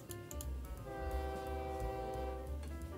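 A train in the OpenTTD video game sounds a long sustained horn over rhythmic rumbling and clattering wheels, with sharp clicks along the way.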